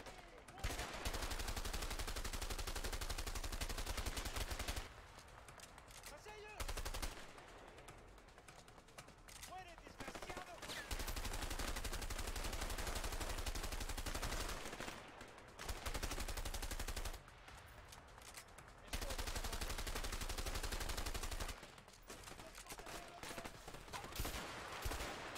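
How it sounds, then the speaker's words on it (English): Loud M1 rifle gunfire and other shots in the video game A Way Out, during a jungle fight, in dense bursts with brief quieter gaps. "Yeah, it's an M1. One shot, one kill."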